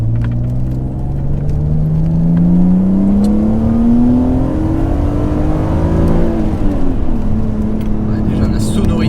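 A BMW Z3 M Coupé engine pulls hard through the revs, a loud, close rising drone with deep rumble, peaking and easing slightly before climbing again, heard from inside the car.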